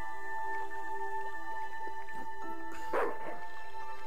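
Dog barking at an oily dockside in the video game Broken Sword 2: The Smoking Mirror, a single fairly loud bark rising out of a quiet, droning game backdrop.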